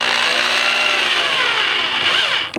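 A power drill whines steadily as it drives a self-tapping screw into wood without pre-drilling, loud and close, then winds down and stops at the end.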